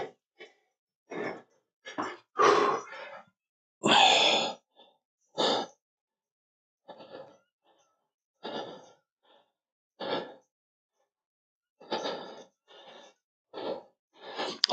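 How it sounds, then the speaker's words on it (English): Heavy, labored breathing from someone holding a full-body workout position: a run of loud, separate gasping exhales and inhales in an irregular rhythm, close up, with short silent gaps between breaths and no talking. "Only bad thing about a hold is I can hear how difficult my breathing is."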